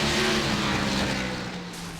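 A race car's onboard engine at Phoenix in iRacing, a loud sustained throttle drone with a steady tone that eases off slightly toward the end.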